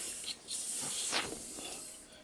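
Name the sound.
spraying WD-40 onto a stainless knife blade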